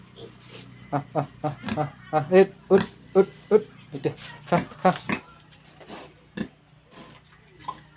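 A castrated pig at a farm in Assam grunts at feeding time, giving a close, steady run of short rhythmic grunts that thin out toward the end.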